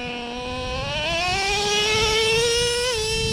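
A Traxxas Revo 3.3 nitro RC car engine screams at high revs, its pitch climbing steadily, then dipping abruptly as the two-speed transmission shifts gear and it continues whining loudly.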